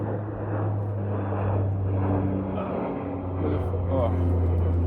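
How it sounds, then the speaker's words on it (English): A steady propeller airplane drone passes overhead, moderately loud and continuous, while a person talks over it. "there's a plane that just flew over. I don't know if you can hear it."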